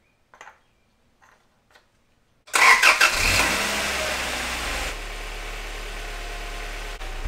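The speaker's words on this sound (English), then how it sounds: "Let's go ahead and start up the car and refill the coolant" A Honda Prelude engine cranks and catches after a few faint clicks, then settles into a steady idle with a low rumble and a faint ticking, close by with no talk.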